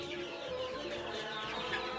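Sonali chickens cluck on a farm in Baksa district, a dense overlapping chorus of many birds at close range with no speech.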